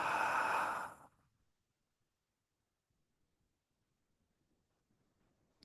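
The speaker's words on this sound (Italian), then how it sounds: "fai un respiro profondo dal naso ed espira dalla bocca" A single deep breath out through the mouth after a nasal inhale, loud and close for about a second, then near silence.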